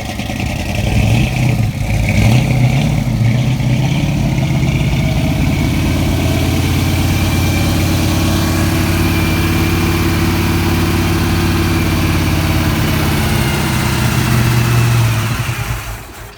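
A 1965 Mercury Comet engine idles steadily on a cold day, just after starting, with a low, even rumble that stays loud and close and shows a slight rev near the start.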